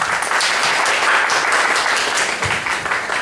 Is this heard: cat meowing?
no